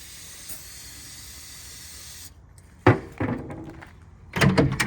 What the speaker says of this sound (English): You better spray again because this stuff evaporates fast.